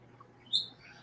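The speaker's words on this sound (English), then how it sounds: "He is going He's just off. chirping away." A pet bird gives one short, high chirp, with a softer faint call just before it, in a quiet room with a low steady hum.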